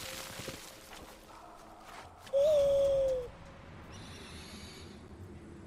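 Owl in the video game Far Cry Primal gives a single loud, smooth hoot lasting about a second, set against quiet game ambience with faint footsteps and rustling.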